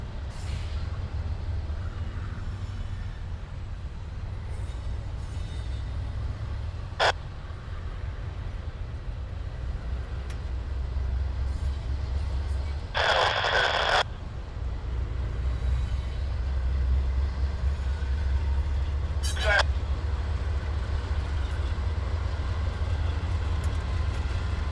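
Norfolk Southern locomotive 4090 leads a train moving through the DeButts rail yard, a low, steady diesel rumble with a few short sharp hisses of air brakes along the way.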